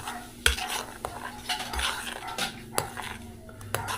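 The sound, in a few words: stirring puto batter with a spoon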